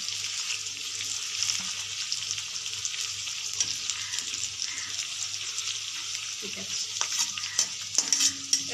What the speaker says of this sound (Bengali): এবার এর মধ্যে মাংসটা দিয়ে দেবো ম্যারিনেট করা মাংসটা দিয়ে দেবো